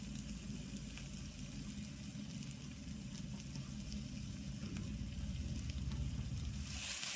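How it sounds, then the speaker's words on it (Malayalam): Chicken liver roasts in coconut oil in a pan, giving a steady, close sizzle with soft stirring scrapes throughout and no talking. "വെളിച്ചെണ്ണ കുറേശ്ശെ ഒഴിച്ചു കൊടുത്ത് ഒന്നുകൂടി വരട്ടിയെടുക്കണം"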